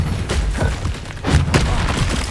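Explosive Confringo spell blasts in Hogwarts Legacy burst out as several sharp booming impacts over a busy background of combat noise, a couple of them louder and closer than the rest.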